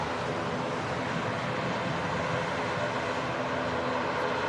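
Singapore Airlines Airbus A350 taxiing toward the runway at Manchester Airport, a steady, broad engine roar that holds constant and fairly close throughout, with no talk.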